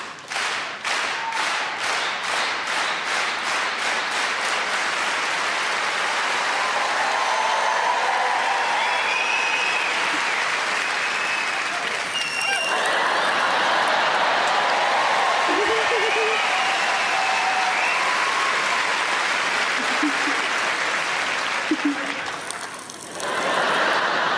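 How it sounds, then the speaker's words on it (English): A studio audience at a comedy show applauds steadily for the full stretch, dense clapping with some rhythmic claps early on, loud and close with occasional cheers. "can we do clap? Clap, clap."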